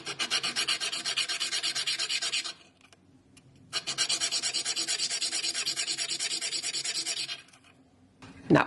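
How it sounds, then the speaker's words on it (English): A small metal cup rubbed on abrasive in two long bursts of fast rasping back-and-forth sanding strokes, close and steady, a short quiet gap between them and a soft knock at the end. "let's sand this down a bit"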